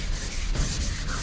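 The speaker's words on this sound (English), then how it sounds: "you feel it and it's nice and smooth because you've been sanding it" Sandpaper rubs steadily back and forth over light orange paint, a close, continuous scratchy hiss with faint rhythmic strokes and no talking.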